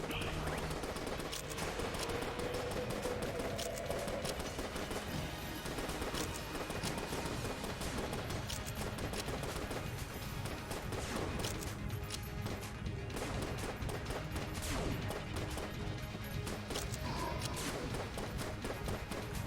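Rapid, relentless gunfire from the bullet-hell game Enter the Gungeon, a dense continuous barrage of shots and crashes layered over busy game music and effects.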